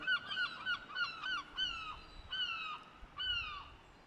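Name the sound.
birds chattering at a coastal cove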